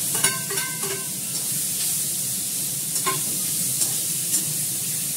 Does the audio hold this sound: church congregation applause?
no